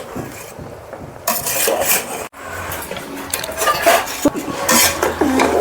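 Metal pots and a pressure cooker clank and scrape as a cook swaps to a bigger cooker while making one-pot vegetable rice with basmati, giving a close series of irregular knocks and rattles.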